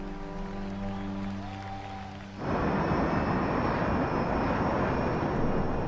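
A Learjet's engines roar in flight, a steady broadband rush with a thin whine on top that swells in suddenly after a quieter tonal hum and then holds loud and constant.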